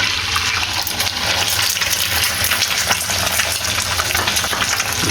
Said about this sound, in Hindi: अब इसके ऊपर डालना है कुकिंग ऑयल और इसके ऊपर आएगा एक अंडा